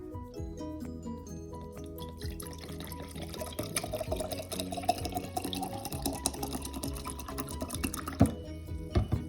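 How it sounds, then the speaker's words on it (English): Vinegar is poured into a mason jar, filling it to the top. The liquid gives a steady, close gurgling stream with a slowly rising pitch as the jar fills. Faint clinks come near the end, with no talk. "For the first mason jar, we're going to fill the jar up all the way with vinegar."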